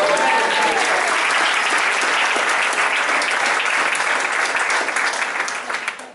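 Loud, sustained applause from a church congregation, steady throughout and tapering off at the very end.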